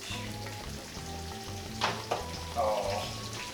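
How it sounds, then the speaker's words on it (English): Pork just pulled from a hot oven sizzles and crackles steadily in the background, with a few brief louder bursts of spattering over a low continuous hum of music. "it's sizzling"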